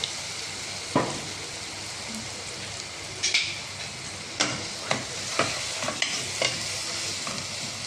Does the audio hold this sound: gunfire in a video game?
no